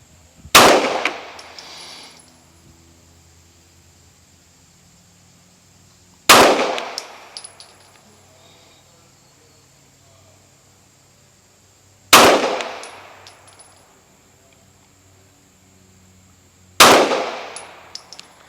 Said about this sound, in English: See if I can fire off 5 good shots here.